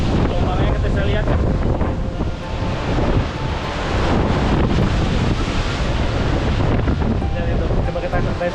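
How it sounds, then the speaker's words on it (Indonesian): Rough ocean waves crash and churn against the fissured rocky cliffs of Tolanamon beach on Rote, producing a loud, continuous surging roar with heavy wind buffeting across the microphone. "Ini jadi tempat aliran ombak laut yang sangat ganas."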